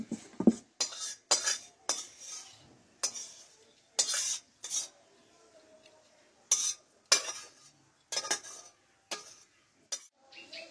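Metal spatula and utensils scrape and clink against a pan while fried neem flowers are lifted out, a series of sharp, close clatters and scrapes in bursts separated by short pauses, with no talking.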